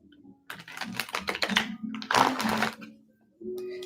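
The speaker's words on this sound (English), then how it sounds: "I'm just shuffling a little bit here" Close, quick riffling bursts of tarot cards being shuffled, two main runs separated by short pauses, crisp and papery.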